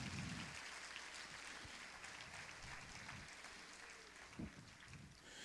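A church congregation applauding during a sermon, a dense wash of clapping heard at a low level and somewhat distant, holding steady for several seconds.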